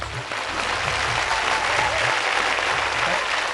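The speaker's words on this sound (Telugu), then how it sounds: "క్లాప్స్" A Telugu TV game show studio audience claps together in sustained, dense applause that stays steady and loud for a few seconds, with faint voices beneath.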